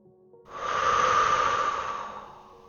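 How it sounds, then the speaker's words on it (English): One long, deep breath through the nose, rising into a loud, close airy exhale that swells and then slowly fades over about two seconds. "we're going to take 3 deep cleansing breaths together. A breath comes in through your nose, pause, and then exhale"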